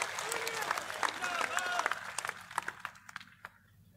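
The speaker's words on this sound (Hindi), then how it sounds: "ताली बजा के स्वागत करो।" Crowd applause at a BJP nomination rally in Bhiwani-Mahendragarh, scattered claps fading out over a few seconds beneath a voice speaking over a public address system.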